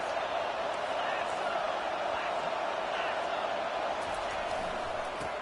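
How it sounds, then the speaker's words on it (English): Steady roar of a large stadium crowd at a college football game, a constant distant wash of noise with a commentator's voice running over it. "This crowd trying to make life miserable for this offense."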